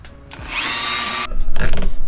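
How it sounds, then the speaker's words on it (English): A Dremel rotary tool trimming around a GT fender emblem for a 1999–2004 Mustang, a loud steady high-pitched whine lasting about a second, then rougher bursts of grinding. "I'm gonna trim around here with the Dremel"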